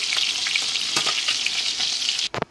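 Fish frying for escabeche in a pan gives a steady, close hiss of sizzling oil with scattered pops and crackles, and a brief sharper clatter near the end, with no talk.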